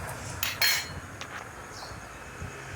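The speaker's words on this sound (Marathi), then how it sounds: "कढईमध्ये आपण शेंगदाणे भाजून घेत आहोत" Peanuts roasting in a kadhai over low gas, stirred with a metal spoon: a couple of sharp clanks early on, then lighter scraping and rattling over a soft steady hiss.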